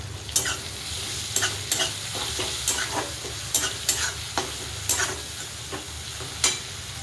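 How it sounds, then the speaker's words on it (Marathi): Coriander sizzles and fries in hot oil for a cabbage dish, with steady crackling and repeated sharp stirring scrapes at close range. "तेलामध्ये कोथिंबीर टाकूया."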